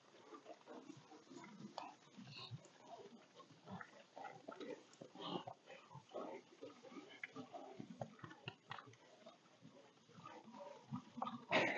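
Large pigs on Polyface Farm grunt and snuffle close by in frequent irregular bursts, with faint voices now and then.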